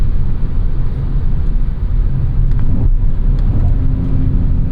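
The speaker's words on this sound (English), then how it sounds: "God, I love that V8" A 2001 BMW M5 E39 V8 gives a deep, steady rumble up close, holding an even note with a faint rise in pitch near the end.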